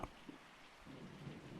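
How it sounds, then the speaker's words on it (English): Rain falling at night, a faint, steady soft wash of rainfall with no voices, very quiet and brief. "And we just listen to the rain."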